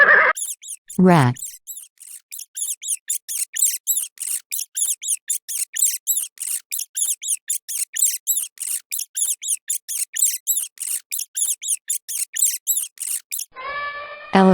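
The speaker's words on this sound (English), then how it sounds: "Rat." Rat gives rapid, high-pitched squeaks in a long, steady, evenly spaced series, loud and close, with a short spoken word before and after.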